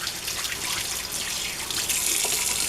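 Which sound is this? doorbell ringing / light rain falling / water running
water running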